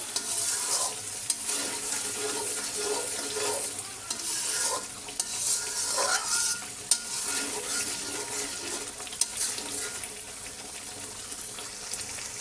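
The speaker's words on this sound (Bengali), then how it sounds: "মাছটা ভুনা করে নেব। তার জন্য মশলাগুলো এখানে কষিয়ে নিচ্ছি।" Spices sautéing in a pan for fish curry, a steady close sizzle with repeated scraping and stirring strokes running throughout, no voices.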